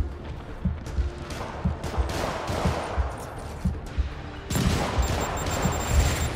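Rapid rocket and weapon fire in Marvel's Spider-Man, a busy run of bursts and thumps at moderate loudness, growing denser and louder toward the end.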